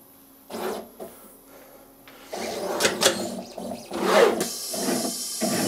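A pick-and-place machine mounts components onto a servo controller board, its head moving in short whirring, clicking bursts that repeat unevenly, close and fairly quiet.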